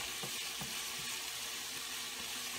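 Ground beef browning in a pan for a beef ragu, giving a steady close sizzle and hiss with a few soft scraping stir sounds throughout.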